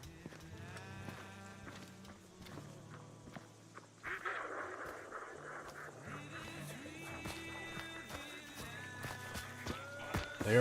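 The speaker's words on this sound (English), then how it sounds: "I heard the ducks." Duck quacks in the video game Hunt: Showdown, brief nasal calls scattered through a busy in-game soundscape with music-like tones and other ambient noises, moderately loud and not masked by talk.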